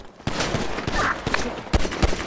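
Video game gunfire, sharp cracking shots in short irregular bursts, loud and close, with a few separated single reports toward the end.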